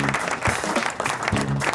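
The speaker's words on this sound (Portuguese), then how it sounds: "palmas!" Studio audience applause for Dr. Edson Arakaki on a Brazilian TV programme, dense continuous clapping close and loud throughout, with a voice briefly rising over it.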